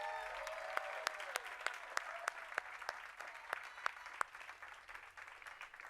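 Applause at an outdoor Hollywood Walk of Fame ceremony honoring Tyler Perry: steady crowd clapping at moderate distance, with sharp individual claps standing out over the wash, gradually thinning toward the end.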